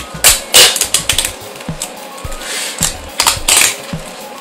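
Adhesive tape is pulled off the roll in short bursts while a flail is wrapped, making loud, close ripping and crackling tears separated by brief pauses.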